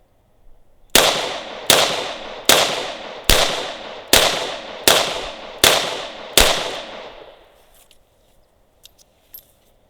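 Eight sharp, evenly spaced shots ring out from a Ruger LCR X .22 LR revolver, each a loud crack with a short decaying tail, followed by faint metallic clicks once the firing stops.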